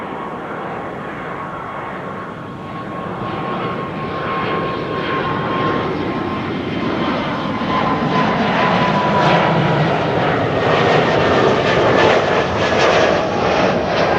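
A Delta Airlines jet, Flight 57 to Salt Lake City, at Amsterdam Schiphol makes a rising jet roar that grows steadily louder and closer, with a whistling engine whine sliding in pitch.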